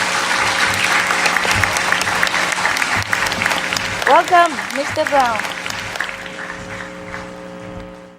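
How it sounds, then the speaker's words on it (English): An audience at an arts event gives warm applause for an arriving speaker, a full steady wash of clapping with a voice speaking over it partway through before the clapping fades. "warm applause"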